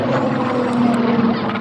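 Propeller aircraft engine drone at an air festival, a steady, loud piston hum with a sustained low tone carrying throughout, no talk over it.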